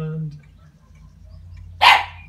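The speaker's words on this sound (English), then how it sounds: "just think that's the little puppy dog barking at the moment" A small puppy barks once sharply nearby, following a man's speech, in a quiet indoor room.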